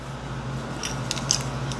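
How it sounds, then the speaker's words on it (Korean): Small thread scissors snipping through fabric, a few light, crisp cuts close by over a steady low hum, with no talk. "그래서 그냥 적당한 쪽가위로 자르겠습니다"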